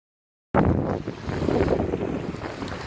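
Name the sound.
water splashing outdoors, recorded on Samsung Galaxy S7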